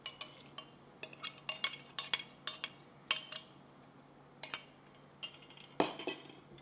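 Red velvet cake batter with buttermilk mixture is stirred in a bowl, with a string of sharp, irregular utensil clinks against the bowl, close and fairly quiet.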